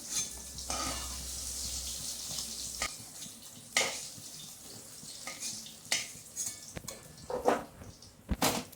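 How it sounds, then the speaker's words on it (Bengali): Fried brinjal pieces are lifted one by one out of a sizzling pan, with faint frying hiss under soft clinks and scrapes of a utensil against the pan in a quiet kitchen. "এক এক করে বেগুনগুলোকে সব নামিয়ে নিচ্ছি।"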